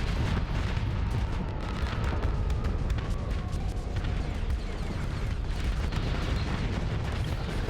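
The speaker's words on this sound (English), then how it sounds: "Those fighters coming across just running into missiles." Dense, continuous game combat din of missile strikes and explosions as fighter craft fly into missiles in Starsector, a steady rumbling barrage of booms and bursts with no pauses and no voices.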